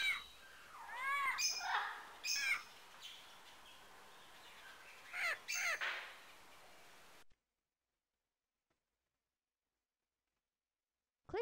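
A bird in a 3DO multimedia video game gives several harsh, squawking caws in short bursts. They come close and clear, then the sound cuts to near silence.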